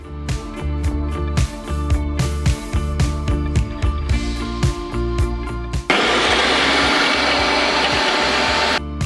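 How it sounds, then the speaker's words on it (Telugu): A mixer grinder whirs loudly as it blends garlic, tamarind, chili powder, salt and onion, running in uneven pulses before settling into a steady, dense roar. "దీన్ని మనం మిక్సీ పట్టేయాలి."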